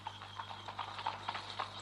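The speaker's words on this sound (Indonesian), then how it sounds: "Aku mendengar suara kereta kuda berlari di tengah malam ini." A horse-drawn carriage runs at night, its hooves clopping in a brisk, even beat, moderately distant and soft over a low steady hum.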